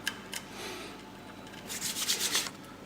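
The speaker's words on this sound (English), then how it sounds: "you take this little screw-on nut and thread it all the way down" A small screw-on nut is threaded onto a chair part while an I-Chair X3000RS is assembled, giving soft, close rubbing and scraping that grows louder and more gritty toward the end, with no talk.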